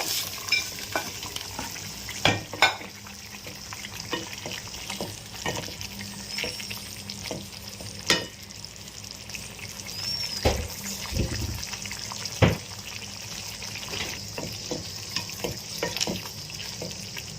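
Tofu paneer stirred into a simmering spicy gravy, with a steady wet bubbling sizzle and scattered spoon scrapes and clinks against the pan, close and moderately loud throughout, with no talking.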